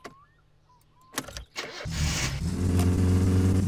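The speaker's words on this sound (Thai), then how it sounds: "Enter Mode สตาร์ทเครื่อง" A car engine in the driving game My Summer Car cranks over briefly, then catches and settles into a loud, steady running rumble.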